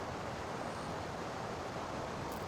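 Steady broadband rush of a flowing mountain stream on a humid summer day near Seoul, continuous and fairly close with no pauses or talk.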